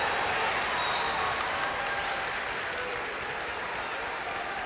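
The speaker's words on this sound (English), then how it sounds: "the cheering you hear in the background isn't necessarily connected with the match you've got on your screen" Crowd cheering and applause in an arena at the 1996 Ohio high school state wrestling tournament finals: a loud, dense, steady roar of many voices and clapping that fills the whole stretch without a break.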